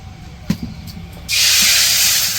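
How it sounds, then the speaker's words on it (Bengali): Oil hisses and sizzles loudly in a wok on a village kitchen fire, a steady broad spray of frying noise after a few small knocks, ready for eggs to be fried for an egg curry. "এখন ডিম ভাজবো। তো ওই যে কড়াই তেলও দিয়ে দিছে।"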